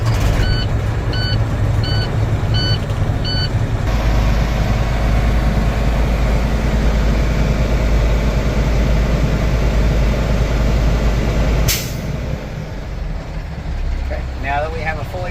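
A heavy truck's diesel engine idles with a steady low rumble while its air brake system charges. A few short warning beeps sound at the start, and a sharp burst of air near the end is followed by a quieter idle.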